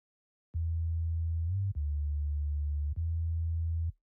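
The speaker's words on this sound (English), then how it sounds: "I used 3x OSC from Fruity Loops, and this is how our bass sounds like." A pure, deep sine-like bass synth built from the 3x OSC plugin in FL Studio for a kwaito beat plays three long sustained notes with small pitch shifts between them, clean and isolated.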